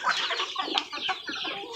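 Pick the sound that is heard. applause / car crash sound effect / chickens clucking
chickens clucking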